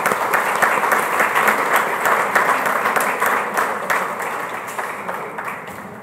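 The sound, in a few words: audience applause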